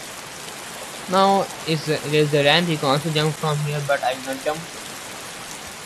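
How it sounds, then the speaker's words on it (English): Steady rain hisses softly over a city in the Roblox game Bloxburg, a constant wash running beneath a person talking throughout. "Now it's raining, so you can't see the city"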